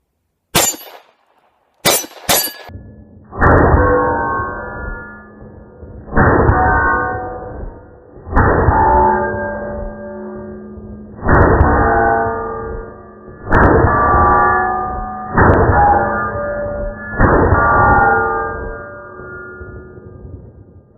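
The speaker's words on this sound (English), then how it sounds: "Let's take a couple of shots and then I'll switch over to 320" Pistol shots fired on a range, a SIG 320 among them: two or three sharp cracks at the start, then seven loud bangs at a steady pace, each trailing off before the next.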